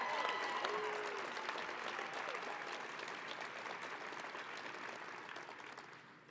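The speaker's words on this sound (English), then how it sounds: "that is definitely worth another round of applause" An audience at a professional women's hockey expansion announcement in San Jose claps and cheers, a steady wash of applause that slowly fades over several seconds, heard at a distance.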